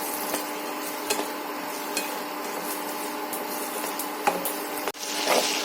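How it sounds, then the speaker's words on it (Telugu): Ginger pieces fry in a pan while being stirred for ginger pickle, giving a steady soft sizzle with scattered scraping and tapping clicks of the stirring utensil, ending in a brief louder scrape. "అల్లం ముక్కలు వేగుతున్నాయి. కలుపుకుంటూ ఉండాలండి,"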